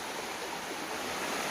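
Cold creek water in Steels Creek, North Carolina, flowing in a steady, unbroken broadband rush with no voices over it.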